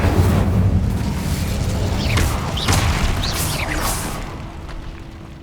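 In the Hogwarts Legacy video game, the Incendio fire spell is cast with a loud whooshing burst and rumble, followed by a few sharp swishing effects that fade toward the end. There is no speech.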